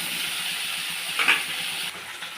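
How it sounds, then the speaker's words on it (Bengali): Okra fries in hot oil with a continuous bright sizzle and hiss, close and fairly loud, with a brief flare of spattering partway through and no one talking. "আর ভেজে নিচ্ছি ঢ্যাঁড়সটা"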